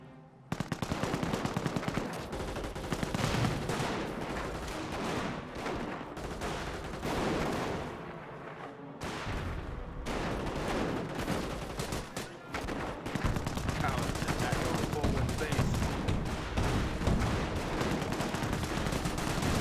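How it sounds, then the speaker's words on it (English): Sustained battle din in Company of Heroes, with mortar barrage and rapid machine-gun fire rattling almost continuously, dense and loud, briefly thinning around the middle before resuming. "Mortar barrage over here, probably last in the location of some Panzer Grenadiers"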